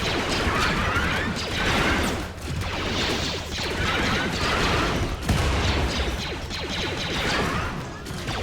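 Rapid bursts of explosions and weapon fire in the colony game RimWorld with a Star Wars Sith Empire mod, dense crackling blasts and impacts loud and continuous over several seconds.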